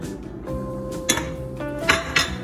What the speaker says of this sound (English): we're gonna add some milk and stir it in